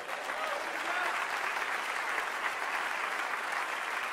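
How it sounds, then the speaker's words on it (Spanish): A church congregation breaks into sustained applause during a sermon, a thick, even wash of many hands clapping that holds at full strength from start to finish. "Vamos, dale un aplauso a Dios."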